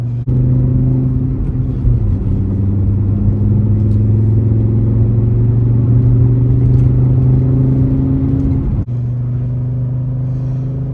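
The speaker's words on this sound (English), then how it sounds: "here we are out in the Quattro, just accelerating away from a bus behind us" A 1988 Audi Quattro accelerates steadily with a deep, rising drone, loud and close, then cuts back sharply near the end to a lower idle-like hum.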